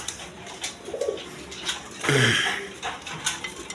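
Satin pigeons coo softly nearby, a couple of low throaty calls, with light clinking and rustling around them.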